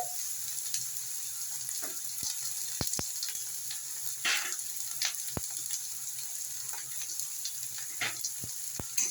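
Chitol fish frying in mustard oil with turmeric and salt for a Bengali kaliya, giving a steady close sizzle with sharp clicks and spoon scrapes scattered throughout.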